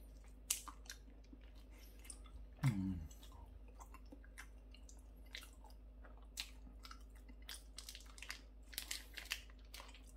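Someone chews a glutinous rice cake made with ramie leaf and filled with red bean, giving soft, sticky, close mouth sounds and occasional light smacks over a low steady hum, with no talking.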